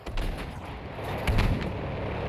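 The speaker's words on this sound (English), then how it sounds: "Shoots a big ol' 6-pound shell." A 6-pound cannon fires in the Battlefield V video game, with a heavy, booming blast about halfway through over a steady rumble of battlefield noise.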